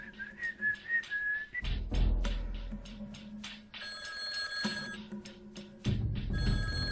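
A telephone rings repeatedly and goes unanswered, its bright electronic trills recurring in bursts over a low rumble, with an opening whistle-like tone before the rings begin.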